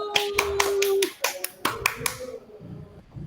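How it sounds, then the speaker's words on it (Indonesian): Classroom applause during a peer-teaching lesson, a burst of brisk hand claps by a small group, close and fairly loud, fading out after a couple of seconds, with a voice speaking at the start. "Tepuk tangan Bu Ninung."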